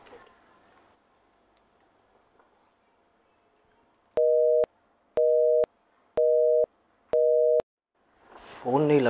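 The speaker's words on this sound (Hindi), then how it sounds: "फ़ोन नहीं लग रहा" A telephone busy signal repeats four times in clear, evenly spaced steady tones after a near-silent stretch of a call that will not connect at night, with brief voices at the start and a louder voice at the end.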